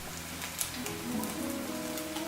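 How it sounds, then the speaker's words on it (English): Tuna patties fry in hot oil in a new, smooth pan, giving a dense, close sizzle and crackle like steady rain, with no one speaking. "The oil is burning the tuna patties."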